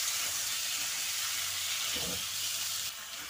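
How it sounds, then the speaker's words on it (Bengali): Green peas fry lightly in a pan for a matar paneer dish, with a loud, steady sizzling hiss that runs unbroken from start to finish and no voices. "এবারে একটু হালকা করে মটরশুঁটিগুলো ভেজে নেব।"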